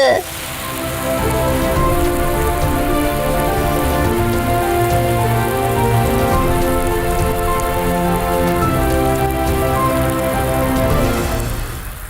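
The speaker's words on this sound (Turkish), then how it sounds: "Sanırım yağmur dindi Pepe" Steady rain patters without a break for several seconds over soft, sustained music, then fades away at the end.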